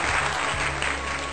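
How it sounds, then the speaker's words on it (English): Brief, steady clapping of moderate loudness lasts about a second and a half. No voices can be heard over it. "Please take this time to clap for me"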